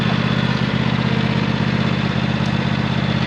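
A small tractor's engine runs in deep snow, stuck and unable to move, giving a loud, steady, close drone with an even low hum throughout.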